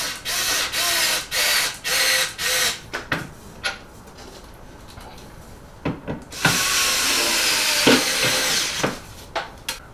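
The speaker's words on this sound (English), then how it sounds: "I'm going to use a low power lithium Ryobi power screwdriver." A low-power Ryobi lithium screwdriver drives screws into plastic threaded holes on a record player stand, with a series of short, sharp whirring bursts, closely spaced at first, then a quieter gap and a longer run near the end.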